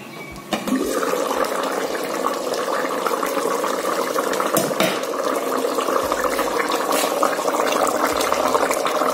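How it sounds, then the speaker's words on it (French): Potatoes boil in a peanut sauce inside a covered pot, producing a steady, fairly loud rushing bubble and hiss that holds throughout, with a sharp knock near the start. "Voilà donc notre sauce avec les pommes de terre dedans qui ont bien bouilli"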